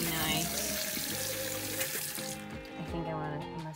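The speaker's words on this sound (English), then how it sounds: "We're gonna go with the MOEN water faucet" Water runs steadily from a newly installed MOEN bathroom faucet in a 2020 R-Pod 192 trailer, a close hissing stream that shifts in tone as it is adjusted.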